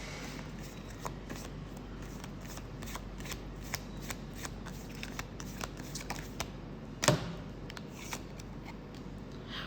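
A deck of Crybaby Tarot cards is shuffled up close, quiet rapid riffling and flicking in repeated bursts, with one sharper snap partway through and no voices.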